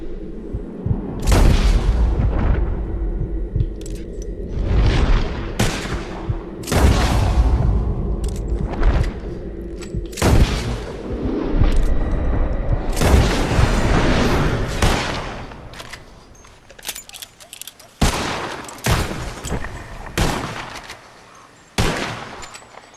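Gunfire in the Red Dead Redemption 2 video game as players shoot at flying birds: a string of loud, booming shots in irregular bursts, some overlapping and echoing, with sharper cracks clustering toward the end.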